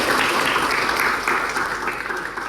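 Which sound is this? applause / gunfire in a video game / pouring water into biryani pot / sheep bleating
applause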